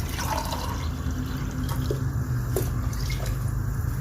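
Water poured into a pot of soaked rice for chicken pulao, a steady splashing trickle with faint dripping, close and continuous, no talk.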